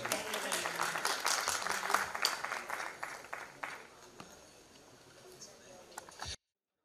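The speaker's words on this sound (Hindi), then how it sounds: "अपने दर्शकों से निवेदन करते हैं डॉक्टर विनय सहस्त्र बुद्धि जी का अपने तालियों से सम्मान करें" Audience applause for Dr. Vinay Sahasrabuddhe at the 'Atal Geet Ganga' event on Atal Ji's birth anniversary: a crowd claps strongly at first, then fades to scattered faint claps before the sound cuts off.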